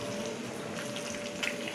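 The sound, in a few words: eggs frying in oil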